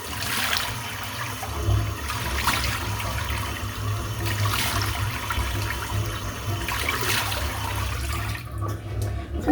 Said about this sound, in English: 4 big splashes of water